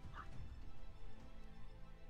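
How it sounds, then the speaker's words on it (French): Three or four dogs bark and yip faintly in the distance, a few quick calls against a quiet background. "C'est que c'est l'aboiement des chiens?"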